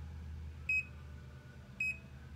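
An alarm on the monitoring panel of a 2021 Airstream Classic 33FB travel trailer gives two short, high electronic beeps about a second apart over a low background hum.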